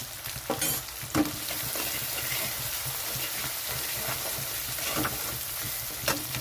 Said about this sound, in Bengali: মশলাটা কষানোর জন্য অল্প পরিমাণে জল দিয়ে দিলাম এটা সর্ষের তেলে বানাচ্ছি